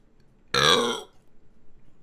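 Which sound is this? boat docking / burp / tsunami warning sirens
burp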